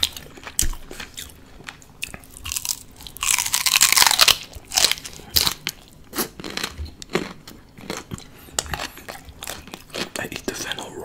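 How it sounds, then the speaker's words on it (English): Raw fennel chunk bitten and chewed up close, with loud, wet crunches at irregular intervals, the heaviest burst early on, followed by softer repeated chewing and crackling. "I eat the fennel roll."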